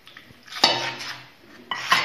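Eggless cake batter of flour and milk stirred in a pan, giving repeated scraping and clinking strokes of a utensil against metal, close and fairly quiet, with two sharper knocks as the mixing rhythm continues.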